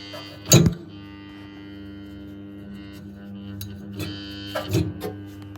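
A failing fan motor, checked by a service and repair engineer after its bearings were treated, hums steadily once power is restored and gives two short, sharp clunks as it tries to start and locks up.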